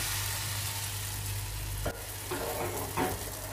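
Palappam batter in a hot pan on high flame, a steady loud sizzle with a low hum underneath, broken by a sharp clack and then scraping swirls as the pan is moved, close and continuous.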